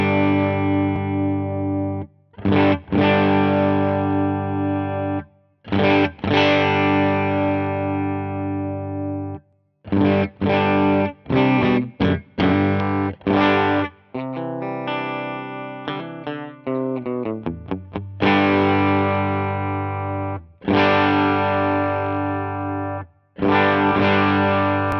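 Distorted electric guitar played through a Line 6 HX Stomp, with loud sustained chords and choppy stabs, a stretch of fast single-note riffing in the middle, and no voices.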